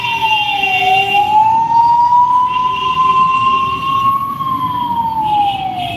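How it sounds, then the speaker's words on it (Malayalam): A wailing ambulance siren rises and falls steadily, loud and continuous, over a constant rumble of evening traffic congestion in Kottiyam, Kollam. "ഒരു ആംബുലൻസ് വരുന്നുണ്ട്"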